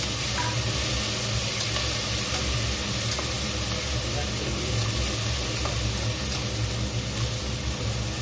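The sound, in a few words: onions and tomatoes sautéing in a pan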